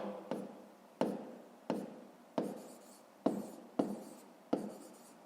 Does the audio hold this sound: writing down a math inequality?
yes